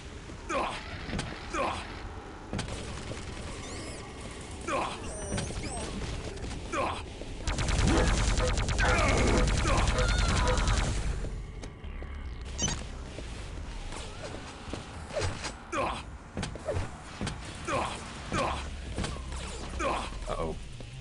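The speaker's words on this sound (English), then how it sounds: "Direct shot with the shotgun to the face." Shotgun blasts in a first-person shooter game ring out as a dense burst of loud gunfire lasting a few seconds, set between quieter stretches of game sounds and sharp clicks.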